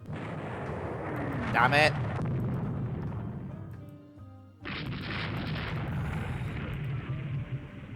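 Missile swarm launching and exploding in the naval strategy game Rule the Waves 3: loud, continuous rumbling booms and blasts, briefly dropping away before a second dense barrage; a man mutters a short exclamation over it.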